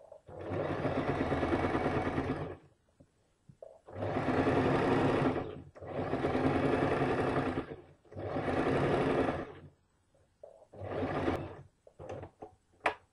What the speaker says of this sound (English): Sew it really carefully so that you're following the natural curve and there's no like bumps or anything.